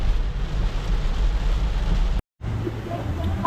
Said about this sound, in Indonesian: Wah, hujan berkabut guys.